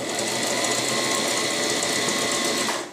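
A Brother JX2517 sewing machine stitches in reverse with a continuous fast whirring hum, close and steady for the whole stretch with no voices.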